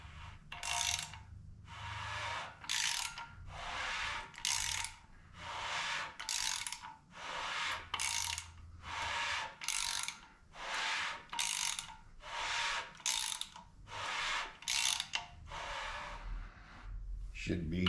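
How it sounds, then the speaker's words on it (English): A ratchet wrench turns over a 5.3 LS V8 engine to centre its oil pump, giving bursts of rapid clicking roughly once a second, up close and alone for about eighteen seconds. "Now we just want to spin this a couple times to make sure that oil pump is centered."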